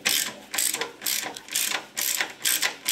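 A hand ratchet clicks in short repeated bursts, about six strokes, while tightening the rear exhaust clamps during an SSI exhaust system install on a Porsche 911 SC.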